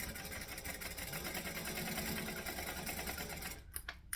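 A sewing machine running steadily while topstitching a seam, a close, continuous rapid mechanical whir that stops abruptly near the end, followed by a few faint clicks.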